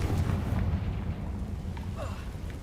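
A Confringo explosion spell goes off in the video game Hogwarts Legacy, a deep rumbling blast that rolls and decays over a couple of seconds, with brief crackles near the end.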